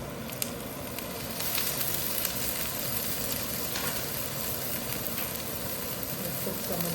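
Pimento frying in a pan of king fish stew gives a steady, even sizzle with small crackles and pops scattered throughout, moderately loud and close, with no talking.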